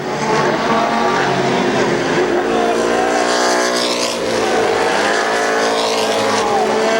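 Race cars roar at full throttle around the oval at Columbus Motor Speedway during a 1996 Race of Champions event, a dense, continuous, loud engine wash with rising and falling pitch as cars pass close by.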